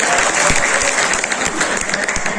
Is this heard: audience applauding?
yes